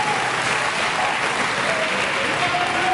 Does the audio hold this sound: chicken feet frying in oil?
no